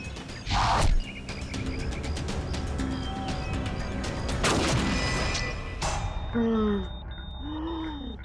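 A gunshot rings out in a tense Indian TV crime drama scene, a sharp broadband blast standing out against a busy bed of music, voices and ambient noise.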